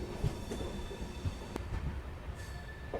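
An Amrit Bharat Express train rolls toward Aishbagh near Lucknow, heard faintly from onboard as a low rumble with occasional wheel clicks and a thin squeal.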